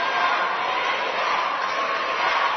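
A loud, continuous roar rises from a crowd at an overtime high school basketball game between VCA and Washington Township on a Friday night, a thick, unbroken wall of cheering with no pauses.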